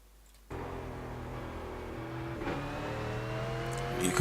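Race car engine pulling hard in second gear, a steady loud drone with a rising pitch that builds slowly over a few seconds after starting abruptly, heard close as if from inside the car.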